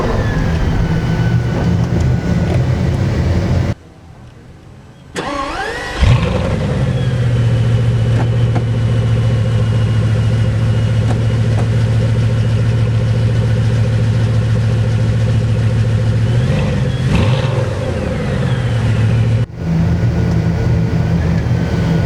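A Bugatti Veyron Grand Sport engine cranks and fires up, revs briefly, then settles into a deep, steady idle, close by and loud.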